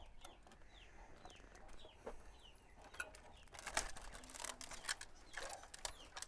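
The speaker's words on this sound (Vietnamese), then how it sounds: "nhà chị này có một đàn gà" Chickens cluck and a rooster calls in a poor village yard high on a mountain, faint and somewhat distant, with scattered clicks and rustling and no speech.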